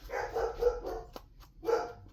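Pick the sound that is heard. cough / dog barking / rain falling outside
dog barking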